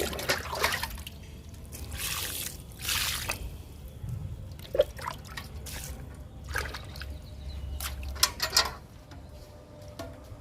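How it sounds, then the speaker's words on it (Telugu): Liquid fertilizer made from oats and kitchen waste is poured onto flowering ridge gourd and snake gourd plants, giving intermittent soft splashes, drips and trickles, fairly near and quiet, with no talk. "బీరకి, పొట్లకి కూడా ఇచ్చేద్దామండి లిక్విడ్."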